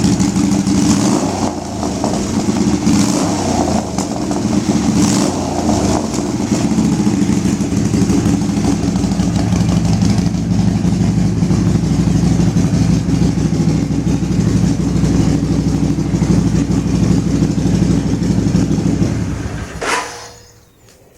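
A 1999 Kawasaki 800 VN Vulcan motorcycle engine rumbles loudly up close, revving in repeated surges before settling into a steady throb, then cutting off abruptly near the end.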